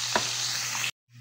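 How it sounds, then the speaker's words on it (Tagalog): Escabeche sauce for tamban fish bubbles hard in a pan, making a soft, even hiss with a few small pops that cuts off abruptly near the end. "Kulong-kulo na yung sauce natin."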